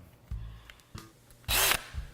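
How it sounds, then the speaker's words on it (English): A power drill spins off the bonnet bolts of an air sweep unit during maintenance, giving a loud, brief whirring burst near the end after a few quieter mechanical clicks and handling knocks, close up. "So I like to use a power drill, but you can use a socket wrench or any kind of wrench to take off these bonnet bolts."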